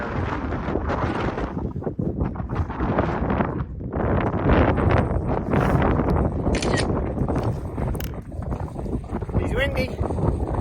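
Gusty wind buffets the microphone in loud, uneven rumbling bursts in the South West Tasmania wilderness, with a voice speaking intermittently beneath it.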